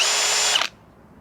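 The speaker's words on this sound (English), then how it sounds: "So let's say drilling, all of a sudden it kicks on me, it stops." A Hilti cordless drill whines loudly at steady high speed, then cuts out abruptly when its kick-back detection triggers, leaving near silence after a brief spin-down.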